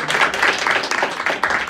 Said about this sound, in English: give a big round of applause for our first comedian of tonight